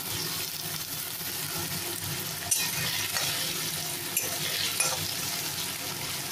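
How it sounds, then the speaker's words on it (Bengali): Small potatoes fry in oil with panch phoron, a dense steady sizzle running throughout, with a few faint clicks of a utensil near the pan. "আলুগুলো একটু হালকা করে ফ্রাই করে নিচ্ছি প্রথমে।"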